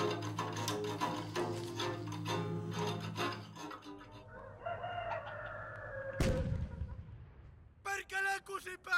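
A rooster crows in a barnyard among chickens, the call rising and trailing off, following loud overlapping sounds, with sharp clucking bursts near the end.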